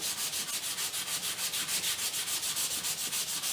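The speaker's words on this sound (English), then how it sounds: "I'm just getting a bit of 180 grit paper and then just sanding back" Fine 180 grit sandpaper rubbing on wooden oars in fast, steady back-and-forth strokes, close and even, with no voices.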